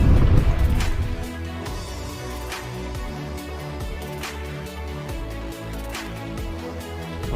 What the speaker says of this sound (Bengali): স্পিড বোট আসতেছে